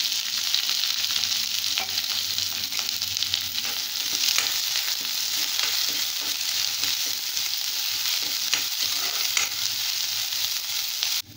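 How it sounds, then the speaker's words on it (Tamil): Chopped onions sautéing in a pan, a continuous bright sizzle and crackle with occasional stirring scrapes, close and steady with no talking. "இப்போ வெங்காயம் கொஞ்சம் வதங்கிடுச்சு."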